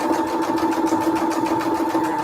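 A sewing machine stitching junk journal pages runs steadily up close, a rapid continuous mechanical hum with a fast, even needle pulse and no pauses.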